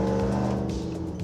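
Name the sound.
2016 Chevrolet Silverado engine at partial throttle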